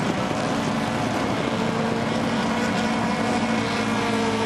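Loud, steady roar of several rallycross car engines held at high revs at a race start, a dense continuous drone with no pauses.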